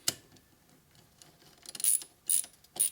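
A ratchet tightens the cap on the pressure relief valve of an oil pump on a 1997 Harley-Davidson Evolution 80ci engine rebuild, giving a few short clicking bursts close by in a quiet workshop, with no talking.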